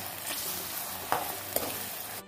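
Tomatoes and prawn masala fry in a pan for a prawn fry, giving a steady sizzle with a couple of sharp scraping stirs.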